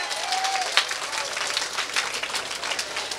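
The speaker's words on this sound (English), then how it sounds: "I think you should give yourselves a round of applause." A rally crowd of women at a Guyanese political rally applauds, broad sustained clapping filling the space, with cheers and a voice over the applause.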